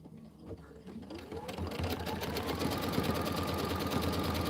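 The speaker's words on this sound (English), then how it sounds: "that line is going to get sewn in" A sewing machine stitches a line into a holiday pillow border, its motor starting up and settling into a steady, fast rhythmic whir that builds over the first second and then holds close and loud.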